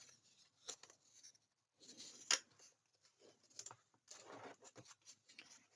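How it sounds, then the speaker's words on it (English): Folded paper for a Carta Bella Halloween waterfall album is burnished in several short, scraping rubs, quiet and close, with brief gaps between strokes. "Giving them a good burnish there"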